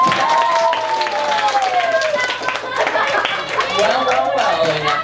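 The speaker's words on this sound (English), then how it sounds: "You guys give Phillis a big round of applause" Fifth-grade classroom applause for a student, clapping and cheering from a group of children mixed with excited chatter and a voice, lively and continuous.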